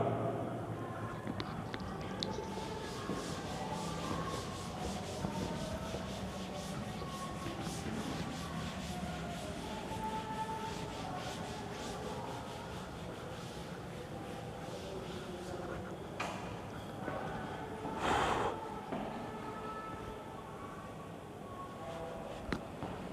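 A classroom blackboard is rubbed clean with a duster in long, continuous scrubbing strokes for over twenty seconds, with no talk heard.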